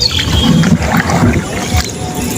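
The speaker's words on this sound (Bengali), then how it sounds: "এই নদে নতুন পানি এসেছে, আর ওই পানিতেই আমরা নৌকা ভাসালাম।" A wooden country boat moving on the Brahmaputra river in monsoon floodwater: a close, steady rush of water and wind noise against the hull, continuous and fairly loud throughout.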